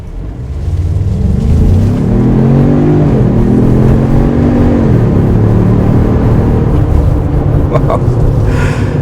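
Ford Bronco Sport Sasquatch with 250 horsepower accelerating hard, a loud continuous engine roar rising in pitch through the gears, steady and close throughout.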